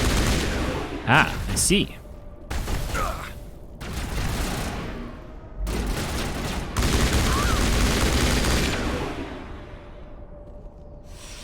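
Gunfire in the video game Mass Effect Legendary Edition: heavy bursts of automatic weapon fire in several long volleys separated by short gaps, loud and close, with a brief line of speech near the start.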